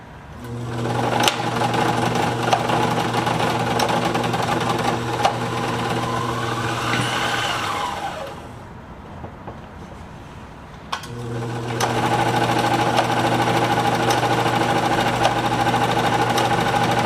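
A Decora 950 B sewing machine runs after oiling, a loud close mechanical whir with rhythmic knocking; it slows and stops midway, falls quiet a few seconds, then starts up again at steady speed.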